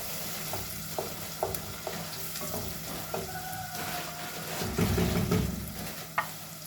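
Chopped onions sizzle steadily in a pan, with clinks and scrapes of stirring and a louder burst of frying near the end; no talking.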